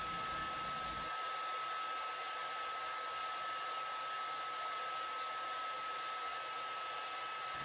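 Hair dryer blowing a steady stream of air to hold a floating ping pong ball, a constant whooshing hum with a steady motor whine, a lower rumble dropping away after the first second, then an even tone.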